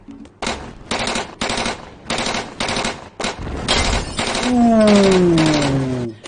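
Bursts of rapid automatic gunfire, loud and close, in several repeated volleys, ending with a rising whine over continuous firing.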